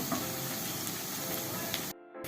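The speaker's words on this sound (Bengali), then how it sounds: "বেশ লাল লাল করে ভেজে নেব।" Biuli dal (split black gram) piyaju fritters frying in hot oil give off a dense, steady, close sizzle with no talking, cutting off abruptly just before the end.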